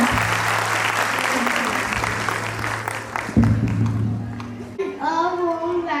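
Audience applause for the children at a preschool annual day fills the room, steady and close for about five seconds. A low hum runs underneath, and a voice begins speaking as the clapping fades.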